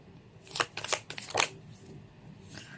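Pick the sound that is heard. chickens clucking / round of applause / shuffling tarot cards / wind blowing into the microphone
shuffling tarot cards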